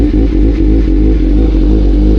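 A motorcycle engine at a car meet, a loud, close, sustained low roar that stays at a steady, heavy pitch throughout with a slight rhythmic pulsing.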